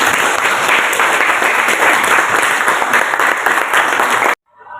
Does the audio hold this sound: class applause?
yes